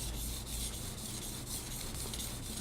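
Steady scraping of a knife blade drawn along a sharpener in repeated strokes, worked from tip through the middle toward the heel, close and fairly quiet with no talk.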